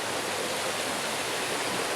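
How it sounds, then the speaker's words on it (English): A village river flows nearby, a steady, dense rushing wash of water with no voices over it. "So this is the river."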